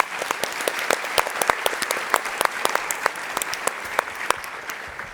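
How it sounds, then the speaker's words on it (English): An audience at a Startup Battlefield session bursts into steady, dense applause lasting several seconds, crisp and close with no talking over it. "Give them a round of applause."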